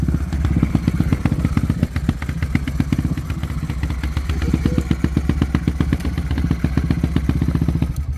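Honda CB 300 motorcycle engine enlarged with a 470cc kit, six-speed gearbox and XR400 carburettor, idling close by with a loud, rapid, lumpy thumping beat that stays steady throughout.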